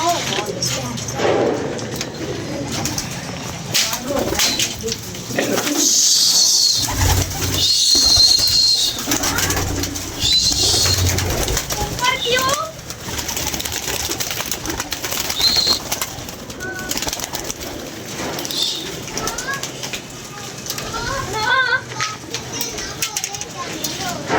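Pigeons coo softly in the background, repeated low calls under ongoing conversation and general outdoor noise.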